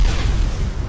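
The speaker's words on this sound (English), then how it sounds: "I heard an explosion." An explosion in the video game ARK comes through as a brief, loud, low rumbling boom that fills the whole second with a dull, broad roar.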